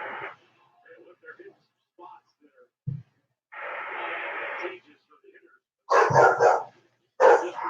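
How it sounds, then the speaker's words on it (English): Dogs barking outdoors as people walk them past during a live baseball game broadcast, with short bursts of barks in separate clusters, moderately loud, alternating with radio commentary and talk. "Oh, people walking their dogs outside."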